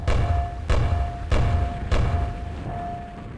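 A volley of grenade explosions in the video game Quake: four deep, booming thuds in quick succession, each with a short rumbling decay, with no talking.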